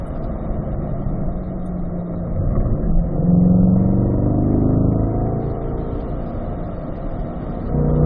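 A C8 Corvette engine accelerates on a track, a steady loud mid-range drone that swells and rises in pitch around the middle before settling into a sustained roar, with no talk over it.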